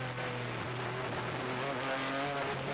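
On-board sound from the number 51 GT race car at full throttle, a loud, steady, droning engine note with sustained harmonics and a slight pitch dip early on, close and continuous, with no voices.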